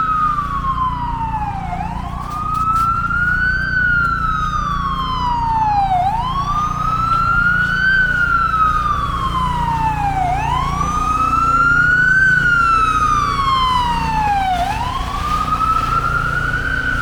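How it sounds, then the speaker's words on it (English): A passing ambulance siren wails loudly and steadily on a snowy New York City street, its pitch sweeping up and down in repeated cycles over the hum of traffic. "Sorry about the siren. See an ambulance there coming by."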